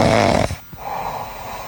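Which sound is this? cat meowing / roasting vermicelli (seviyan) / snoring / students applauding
snoring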